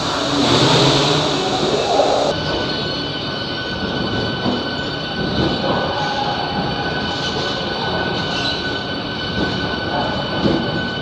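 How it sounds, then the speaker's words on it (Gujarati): Busy ambience at Secunderabad railway station during renovation work, with train and rail-car rumble, steady mechanical noise and faint wheel squeal running continuously throughout, fairly loud and close. "આ છે સિકંદરાબાદનું રેલવે સ્ટેશન"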